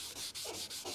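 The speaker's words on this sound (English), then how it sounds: "as we're sanding it with some water, so we're making some progress" Wet sandpaper rubbing tractor clear coat paint with water, heard as steady back-and-forth scrubbing strokes, close and fairly loud with no talking.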